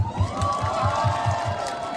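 A crowd at a night market concert in Taebaek cheers and applauds steadily, with a rhythmic low beat running underneath throughout.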